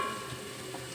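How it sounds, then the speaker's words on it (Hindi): A tempering of spices sizzles in hot oil while okra is being cooked, a brief, steady hiss of frying with no talking. "मखना का तड़का लगा दीजिए।"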